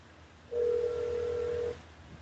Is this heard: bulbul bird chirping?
no